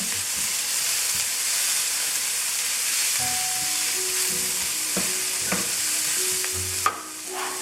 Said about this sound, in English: Then I'm gonna add in my tomatoes to cool off the garlic.